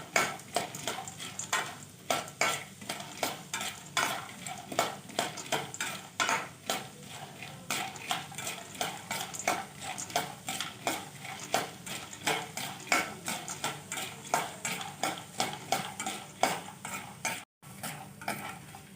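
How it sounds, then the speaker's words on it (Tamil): Roasted gram is stirred and sautéed in a pan, a spoon scraping and clinking against the metal in a quick, repeated rhythm over a faint sizzle, close and steady for nearly the whole stretch. "இது கொஞ்சம் நேரம் வதக்கிட்டாலும் போதும்"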